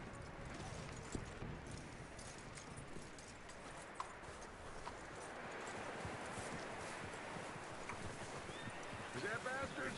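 Horse hooves clip-clop at a steady walking pace in Red Dead Redemption 2, faint and fairly near, over wind-like outdoor ambience.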